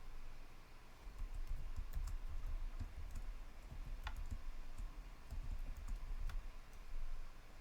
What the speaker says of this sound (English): then the year, and then you type in the hour,